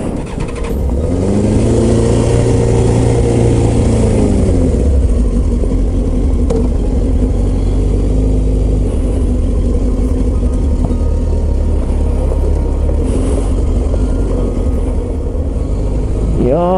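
Motorcycle riding the Izu Skyline road near Mount Fuji, the engine rising in pitch as it pulls away and then droning steadily and loudly up close for the rest of the stretch, with heavy wind rush.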